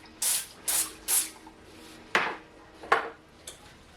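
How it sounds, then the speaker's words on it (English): Cooking spray hisses onto a pan in three quick bursts, then a few sharper, shorter sprays follow with brief pauses between them. "I'm going to spray the pan first"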